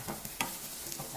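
Red chili stir-frying in chili oil with aromatics for Chinese lazi chicken, a brief close sizzle broken by quick scraping stirs, with no voices.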